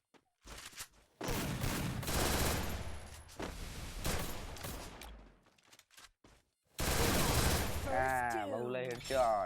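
Bursts of rapid automatic gunfire from a shooting video game, loud and repeated in several volleys with short gaps, ending with ringing tonal effects like hit or headshot sounds.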